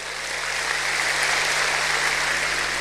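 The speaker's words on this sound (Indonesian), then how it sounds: "Berikan tepuk tangan yang meriah." A church congregation applauds in a steady, dense wash of clapping that holds at an even, fairly loud level throughout, with no pauses.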